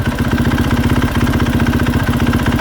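A KTM 450SXF motorcycle engine idles close by with a worn clutch dampener, its loud steady running carrying a fast, even knocking and tapping rhythm throughout, with no voices.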